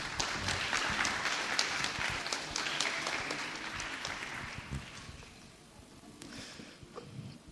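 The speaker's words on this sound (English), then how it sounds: "Another round of applause for Tammy." Audience clapping at a TEDx Youth event after a student speaker finishes, fairly distant and sustained for several seconds before tapering off into scattered claps and room noise.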